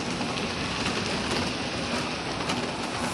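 Rain pours steadily onto a surface, filling flower pots with rainwater, a dense, even hiss of drops that holds throughout at close range with no voices.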